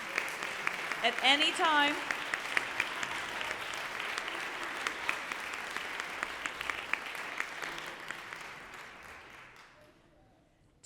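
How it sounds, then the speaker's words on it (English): Sustained applause from an audience at a fall fundraiser concert, dense and steady for about nine seconds before fading out, with a brief spoken phrase near the start. "please stand up and let's give you a round of applause"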